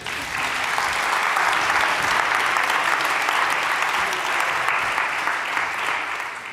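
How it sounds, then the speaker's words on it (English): An audience at a talk on equitable cities claps steadily, a dense, even wash of applause that holds for several seconds before tapering slightly. "I think it deserves an applause."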